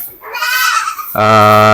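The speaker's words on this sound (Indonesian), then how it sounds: "perkenalkan ini salah satu cempe jenis Cross Alpine" A Cross Alpine goat kid, an Alpine and Sapera cross on a dairy goat farm, bleats loudly and close by, a wavering cry followed by a sustained strong bleat.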